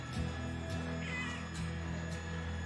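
A pet cat named Bella gives a short meow in the background, faint and brief against a steady low hum indoors, with no talking over it.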